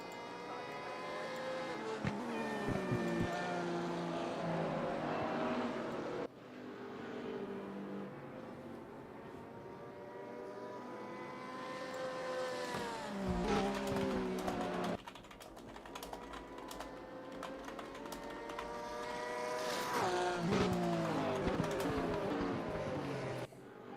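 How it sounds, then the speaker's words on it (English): A Porsche race car engine in a racing video game climbs through revs in rising whines, then drops sharply on each gear change, with several cycles of acceleration and lift-off, loud and steady throughout with no voices. "Listen to that Porsche sound while we have it."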